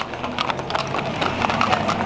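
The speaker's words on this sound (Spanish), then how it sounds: "Lo más bonito de una cabalgata son los cascos de los caballos" Horses' hooves clip-clop steadily on pavement during a group horseback ride in Llera, Tamaulipas, a dense run of close, loud hoof strikes with no talk over them.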